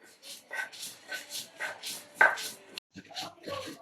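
Chilies and garlic are ground by hand for dried fish paste, giving a rhythmic series of close, soft pounding and scraping strokes, about two per second, with a brief pause near the end.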